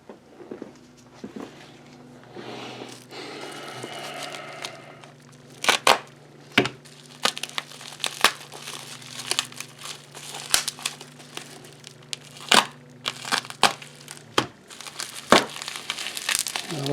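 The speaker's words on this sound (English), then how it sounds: "this is going to be a multiple unwrapping one, isn't it?" Packaging around a 1949 Tibetan 10 srang coin is unwrapped, with close, crisp crinkling and crumpling of plastic and paper in irregular bursts and sharp snaps over a low steady hum.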